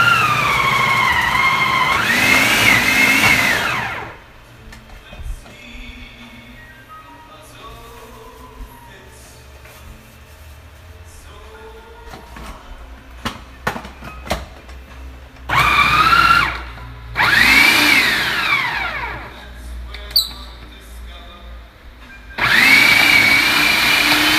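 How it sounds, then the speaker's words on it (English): A food processor whirs loudly in several bursts, a few seconds each, while making herb cheese bread stick dough, with quieter clattering and handling noises in between. "I'm going to start running the processor."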